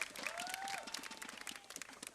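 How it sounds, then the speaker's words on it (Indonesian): Applause from a studio audience on an Indonesian TV comedy show, a continuous busy patter of many hands that thins slightly toward the end, with a faint tonal sweep near the start. "tepuk tangan buat Padut"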